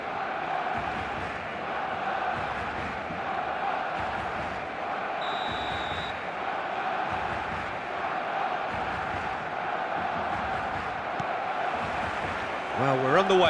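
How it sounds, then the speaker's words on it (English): A stadium crowd in the eFootball video game roars in a steady, loud wash of cheering and chanting, with a commentator talking over it. "This crowd doesn't do ordinary, and we should be in for something very special."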